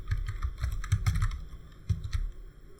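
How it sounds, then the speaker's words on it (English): Rapid, close keystrokes on a computer keyboard while code is typed, coming in quick uneven bursts with short pauses and a steady hum behind them. "So I'm going to type in faces dot append"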